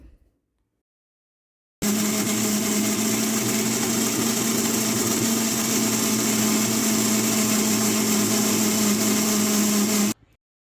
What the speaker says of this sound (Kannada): ಇವಾಗ ನಾವು ಮೊದಲು ಇದನ್ನು ರುಬ್ಬಿಕೊಳ್ಳೋಣ ಮಿಕ್ಸಿಯಲ್ಲಿ.